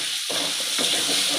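Grated raw mango fries in a pan with turmeric for mango rice, a close crackling sizzle that swells after a brief quieter start and keeps going, with no talk over it.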